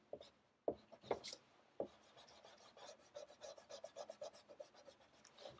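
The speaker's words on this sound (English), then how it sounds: "I'm trying to remove the construction lines. I'll just erase all of it." A pencil eraser rubs construction lines off a paper drawing, giving close, quiet rasping strokes in a quick, steady back-and-forth rhythm after a few louder scrubs.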